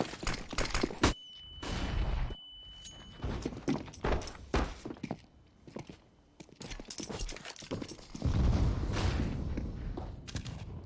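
Gunfire in a Counter-Strike match on the Dust2 map sounds as scattered sharp shots and short bursts, mixed with thumps and footsteps at varying distances, loud in places and separated by brief quiet gaps.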